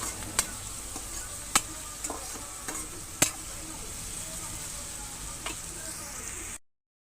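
Onions and green chillies frying in a pan for a taro and egg curry, a soft continuous sizzle with a few sharp spatula clicks and taps scattered through, close but fairly quiet, cutting off at the end.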